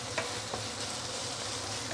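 String beans sautéing in sambal petai, a chili paste with stink beans, sizzle steadily in a pan, with a couple of stirring scrapes near the start and a constant close hiss beneath.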